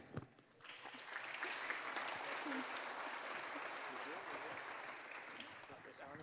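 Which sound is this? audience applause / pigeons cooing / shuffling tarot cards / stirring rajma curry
audience applause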